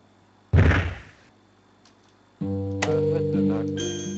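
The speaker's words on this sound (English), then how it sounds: "I heard the knock." A knock in The Witch House video game lands as a single loud, sharp thud, then fades; after a short quiet, a steady sustained tonal drone of game music or ambience sets in and holds to the end.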